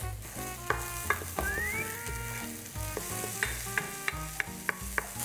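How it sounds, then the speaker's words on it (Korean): Garlic and onion stir-fry in cooking oil in a pot on an induction cooktop, sizzling steadily while a spatula knocks and scrapes against the pot in sharp, irregular taps. "식용유를 먼저 둘러주고요. 마늘, 또 아까 양파 먼저 볶을게요."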